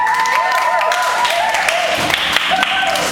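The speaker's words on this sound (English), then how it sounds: "please give a big round of applause for the designer and stylist for today's show" Audience applause during a fashion show rehearsal, a steady wash of clapping that fills the room throughout, with voices mixed in underneath.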